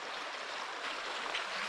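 A freshwater stream in hilly safari country runs with a steady, close rushing wash, broadband and even, without voices.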